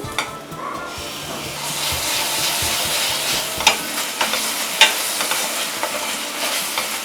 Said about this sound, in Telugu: దీన్ని పచ్చివాసన పోయేంత వరకు వేయించుకుందాము